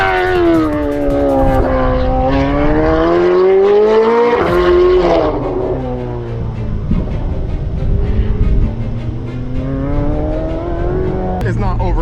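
A race car on Forgedlite Magnesium MC5 wheels screams loudly at high revs, rising and falling as it shifts and corners, with tire noise and a voice talking underneath.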